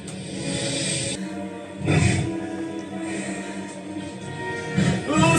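A wolf growl sound effect in a puppet show gives loud, rough roaring snarls that swell and fade in several bursts, with a strong surge near the middle and another at the end.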